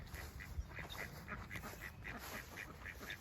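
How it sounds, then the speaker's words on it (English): Ducks quack repeatedly in a spring orchard, a steady run of short calls at moderate distance over faint outdoor background. "There's the duckies."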